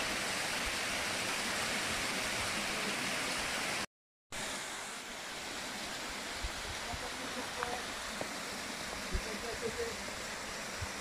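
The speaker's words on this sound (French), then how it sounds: "une belle cascade." Waterfall seen on a snowy April mountain trek descent in the Vanoise park, a steady broadband roar of falling water filling the scene, close and constant, with a brief dropout partway through.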